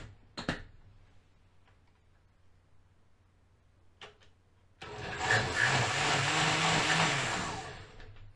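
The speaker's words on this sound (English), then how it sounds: "I turned my blender down a little bit rather than going straight to the high setting" A kitchen blender switches on at a lowered setting to pulp torn paper strips, banana skin and water for papermaking, a loud steady whirring churn after a few soft knocks and near silence.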